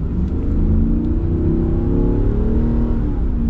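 A 2024 Ram HD truck's big V8 accelerates with a loud, steady, deep engine roar and a rising whir, heard up close from the cabin with no voices.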